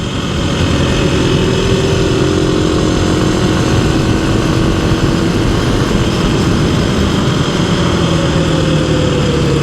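A Kawasaki KLX300 motorcycle with a Race Tech 6.4 kg spring does burnouts on a road, its loud engine roaring and revving close by with continuous harsh droning and rising pitch sweeps.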